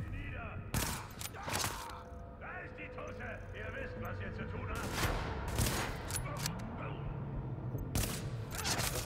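Gunfire in the video game The Division: several loud, sharp shots, some in quick bursts, cracking out over a steady game soundscape, with a voice talking between them.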